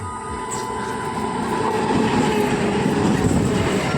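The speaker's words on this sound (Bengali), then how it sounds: "এই দেখো সামনে থেকে ট্রেন আসছে" A train runs along a railway line, its steady rolling rumble growing slightly louder as it comes closer, with faint rhythmic wheel clatter and no voices.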